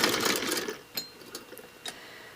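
An old sewing machine chain piecing on its smallest stitch, a dense rapid whirr that fades after under a second, then a few light isolated clicks, close with no talking.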